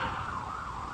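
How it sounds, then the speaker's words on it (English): A faint siren wails in the distance over low traffic rumble, its pitch wavering steadily. "Sorry about the sirens."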